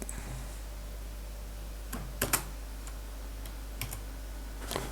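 A few sparse, faint keystrokes tap on a computer keyboard against a steady low electrical hum, with a small cluster of clicks in the middle.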